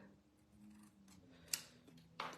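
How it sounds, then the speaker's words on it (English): Scissors snip through cardstock while making greeting cards, two short crisp cuts, faint and close, the second after a brief pause. "So let's see, snip here and snip."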